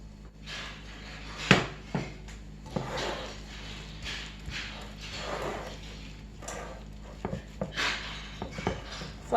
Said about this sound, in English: Flatten it out in the pan so it bakes evenly.